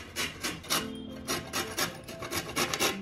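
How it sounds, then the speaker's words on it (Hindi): A lemon is rubbed by hand against a grater, giving repeated rasping strokes in an uneven rhythm, close and moderately loud with no voices. "एक एक करके पूरा घिसना है सारा नींबू को इसी तरह"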